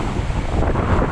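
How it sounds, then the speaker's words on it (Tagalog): Strong wind-driven sea waves surge and buffet the microphone in a brief, loud, continuous rush near a boat on the coast at Barangay Alibungan, with no voices. "Lakas ng alon. Gawa ng hangin."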